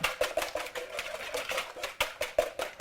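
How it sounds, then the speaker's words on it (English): Eggs beaten by hand with a whisk in a bowl, rapid rhythmic clicking taps repeating several times a second, close and fairly loud, with no talking over it. "I'm going to take my whisk and just beat up those eggs for a little bit"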